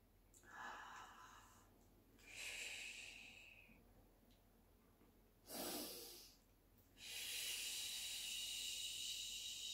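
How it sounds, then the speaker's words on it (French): Deep belly breathing during a relaxation exercise, with four slow, noisy breaths, each an audible inhale or exhale with breathy hiss, separated by quiet pauses; the last breath is long and steady. "on va faire une petite respiration. On va faire aujourd'hui avec le ventre."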